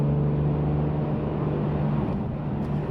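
A BMW E46 M3 drives along a road, its engine holding a steady low drone with a strong even hum beneath broadband road and tire roar, continuous and close from inside the cabin.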